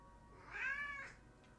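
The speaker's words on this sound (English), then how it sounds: "Oh, I gotta pick up the kitty." A single close house cat meow, a drawn-out rising-then-falling cry lasting under a second over a quiet room, with no voices.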